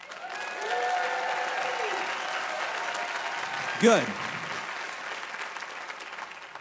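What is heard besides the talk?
audience round of applause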